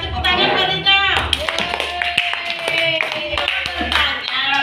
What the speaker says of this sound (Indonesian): Coba tepuk tangan buat Rido.